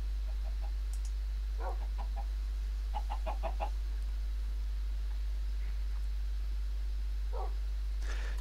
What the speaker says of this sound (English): There's a family of chickens living down here.